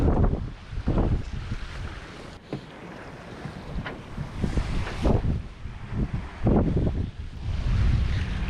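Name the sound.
passenger ferry passing on water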